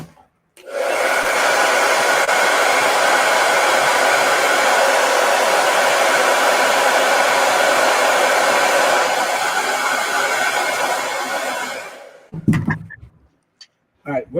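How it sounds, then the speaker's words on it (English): A handheld blow dryer runs loud and steady at close range for about eleven seconds, its whirring airflow then winding down and cutting off, followed by brief handling noises. "I'm going to hit this with a blow dryer."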